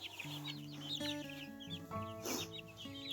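Soft clucking and peeping from several chicks, including Spanish Naked Neck chicks, overlapping calls close by with a brief rustle partway through, no talking.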